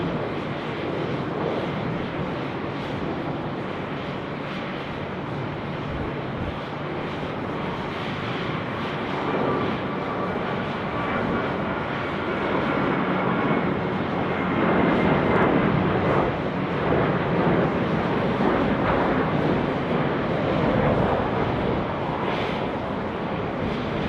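A Boeing 737 lands at Sydney Airport, its jet engine roar a broad, sustained rumble that swells slightly midway and holds steady throughout, with no voices.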